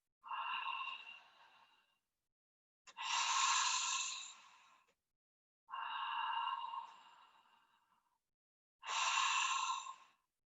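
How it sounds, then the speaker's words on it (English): Loud, deliberate mouth breathing during a Pilates mat workout: four long, breathy exhales and inhales in a slow, even rhythm, each lasting about two seconds and separated by short silences, close and clear with nothing else heard. "I'm going to make a much more loud sound with my breathing so I can hear it."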